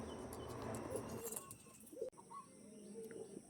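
Soft, throaty pigeon coos repeat nearby, with a few light chirps and a brief flutter, over quiet room background.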